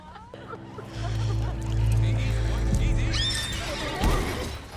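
A horse neighs loudly and close, a long shaky whinny swelling and then breaking off, heard over a television-like background of voices and music.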